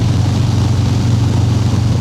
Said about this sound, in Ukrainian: Зараз стою на світлофорі і відчуваю, як б'ється серце мотоциклу.